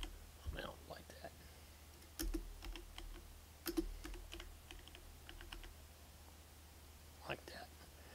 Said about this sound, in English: if I type nonsense